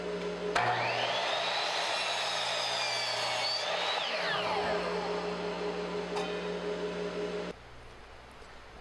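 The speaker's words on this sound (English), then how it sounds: "I used a 1/8 inch bit to drill a pilot hole for the hole cutting bit." Power drill fitted with a 1/8 inch bit boring a pilot hole in wood for a hole saw, a steady loud whine that rises in pitch, holds, then winds down and stops near the end, heard alone.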